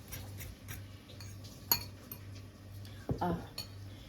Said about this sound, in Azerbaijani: Yumurtanın üzerine əlavə edirəm. Qarışdırıram.